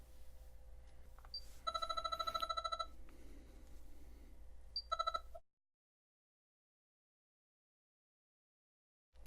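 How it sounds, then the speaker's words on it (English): A phone ringtone plays through a Pioneer AVH-EX in-dash car receiver: two bursts of an electronic ringing pattern over a low hum, close and clear, after which the sound cuts to silence. "When we receive a phone call, the phone acts as normal."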